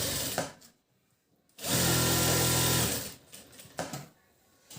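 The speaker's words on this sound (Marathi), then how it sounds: "ज्यावेळेस आपल्याला मशीन फिरवायची त्यावेळेस आपली सुई मात्र आतच पाहिजे" A sewing machine stitches the lining of a blouse. A few short runs and clicks lead into one longer steady burst of whirring, followed by quieter handling clicks and a brief restart, heard close up.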